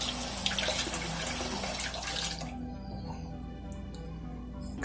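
A kitchen tap runs warm water in a steady close hiss for a couple of seconds, then cuts off, leaving a faint hum and a few light clinks.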